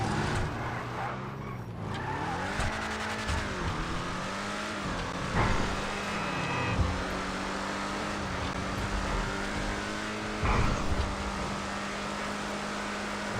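The Vigilante, a Batmobile-style supercar in GTA 5 Online, drives with an engine that revs up and down over road noise, a few brief screeches and thumps mixed in.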